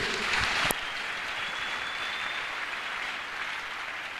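A church congregation bursts into applause that fades quickly into a faint, steady hiss of a large room, with one sharp knock early on.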